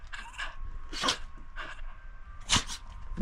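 A dog in a backyard gives a few short, snorting sneezes, quiet and close, separated by brief pauses.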